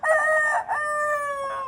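A native country rooster gives a loud, close crow with a brief break and a drawn-out tail, clear and alone with no voices.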